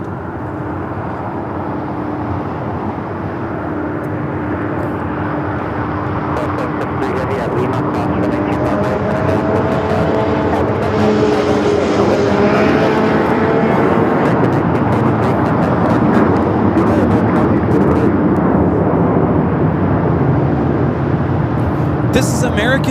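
American Airlines Boeing 737-800 taking off from LAX, jet engine roar building from a rumble to a loud, broad whine that swells and holds, with people talking over it.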